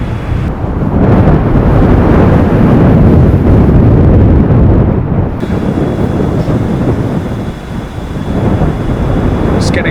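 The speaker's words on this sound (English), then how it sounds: "the wind is getting stronger, or it changed direction. It's just massive now, and the whole van is shaking sideways." Strong blizzard wind roars and buffets against a van, a loud, continuous rumble that surges and eases slightly as the vehicle shakes sideways.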